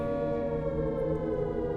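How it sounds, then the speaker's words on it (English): An air raid siren in a Skyrim horror mod video game drones as a steady, loud, harmonically rich tone, holding without pause through the short moment. "Air raid sirens do not exist in Skyrim, I think."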